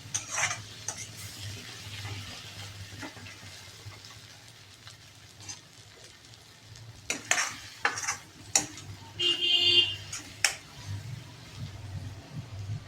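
Tomatoes and garlic fry in a pan under a soft, steady sizzle, while a spoon scrapes and clinks against the metal in bursts of stirring that grow busier and louder toward the end.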